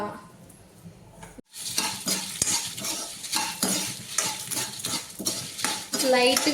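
Dried red chillies and coriander seeds roast in a teaspoon of oil in a pan, starting with a faint hiss, then a sharp clatter and a spoon stirring and scraping repeatedly over a crisp sizzle.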